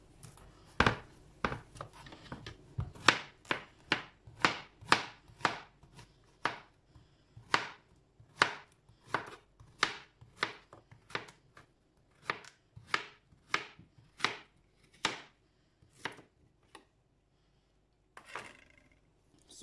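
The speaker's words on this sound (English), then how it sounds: "So I finished cutting it." A knife chops zucchini on a board in a quick, steady run of sharp, close taps, pausing briefly partway through, with no talking.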